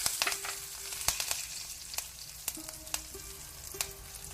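Mustard seeds, garlic cloves and asafoetida frying in oil for Mangalorean marwai sukka, a soft continuous sizzle broken by repeated sharp pops and crackles as seeds burst, close and unaccompanied by talk.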